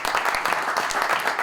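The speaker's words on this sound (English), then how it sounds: "A big round of applause for them." An audience applauds players at a sports panel event, a dense, steady burst of many hands clapping at once, loud and continuous without pause.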